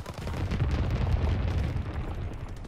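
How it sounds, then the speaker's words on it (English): Mortar fire in Call of Duty: WWII makes a sustained, heavy rumbling of explosions that rolls on without a break for a few seconds. The booms are loud and low and come in a dense, continuous wash. "Enemy mortar fire incoming."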